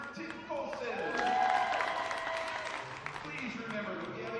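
Crowd applauding coaches at a high school volleyball match in a gym, a sustained wash of clapping that swells slightly midway, with a voice talking over it on the public address.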